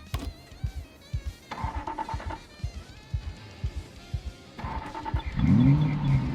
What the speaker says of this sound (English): The car eerily took 2 tries to start.